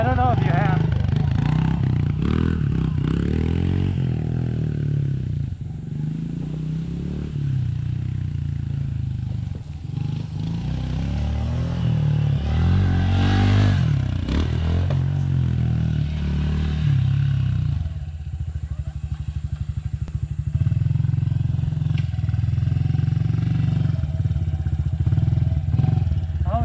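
A pit bike engine drones steadily close by as it rides a homemade dirt track loop, with surges and dips in revs and some clatter over the bumps. A voice talks over the engine noise.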